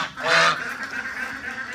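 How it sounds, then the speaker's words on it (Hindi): A white duck gives one loud, close nasal honk-like quack, followed by a fainter trailing call against quiet background. "ज़्यादा ये डक्स वाइट वाली ही कर रही हैं"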